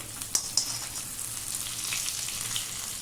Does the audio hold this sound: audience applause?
no